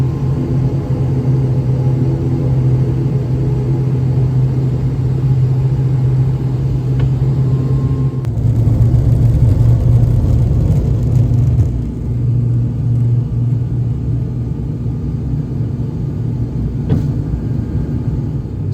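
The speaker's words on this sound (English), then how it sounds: "powering up its 2 turboprop engines and taxiing out onto Kirkwall's main runway" Two turboprop engines of a Loganair plane at Kirkwall airport powering up and taxiing out to the runway, a loud steady low drone with a rising roar partway through, continuous and close.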